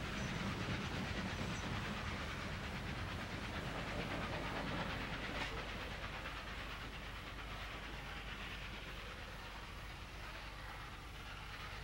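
A Norfolk and Western class A steam locomotive hauling a heavy freight train runs in a dense, continuous roar with hiss and rail clatter, steady and loud throughout.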